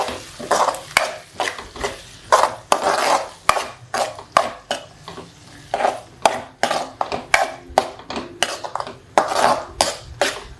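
A spoon scrapes and clatters against a pan while scrambled egg poriyal with salt is stirred, in quick, uneven strokes with a faint sizzle underneath throughout.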